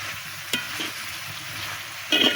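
Vegetables with salt and turmeric stirred in a pan, a soft steady sizzle with a couple of scraping strokes and a brighter burst of frying near the end, close and fairly quiet.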